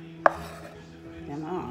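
A knife cutting the end off a ripe plantain on a cutting board, one sharp, close chop followed by quiet handling sounds.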